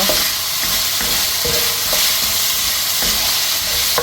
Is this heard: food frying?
yes